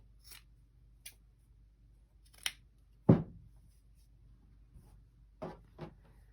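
Scissors snip through the end of a stretched T-shirt strip rolled into a rope, a handful of sharp, close cuts spaced irregularly in a quiet room, one louder snip in the middle.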